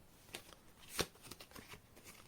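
Tarot cards being shuffled during a reading, with soft riffling and flicking that peaks in one brief sharper flurry, faint and close with no one talking.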